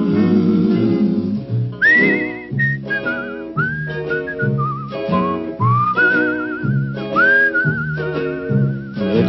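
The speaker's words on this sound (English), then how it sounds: "It's a whistling tune" A wavering whistled melody carries over a full orchestral backing, the tune sliding and trilling in long phrases, loud and upfront, with no voices.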